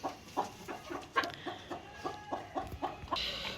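Chickens clucking in a steady series of short calls, about a dozen over a few seconds, with faint background chatter of birds and some higher calls near the end.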